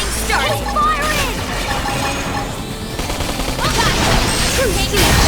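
Weapons firing during a battle in Xenoblade Chronicles X, rapid bursts of gunfire and crashing impacts layered with whooshing effects, loud and continuous over game music.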